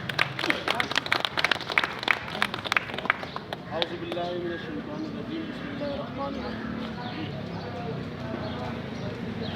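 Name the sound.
audience applause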